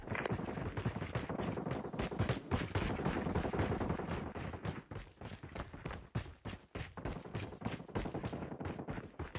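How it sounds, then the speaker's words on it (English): Rapid automatic gunfire from a deployed sentry gun in Call of Duty, dense bursts of sharp shots rattling on with brief gaps and thuds, loud and close throughout. "Sentry gun deployed."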